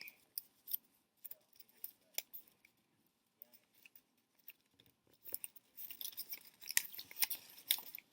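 A folded paper snowflake is opened out, giving faint crinkles and soft clicks that build into louder, crisp rustling of paper near the end.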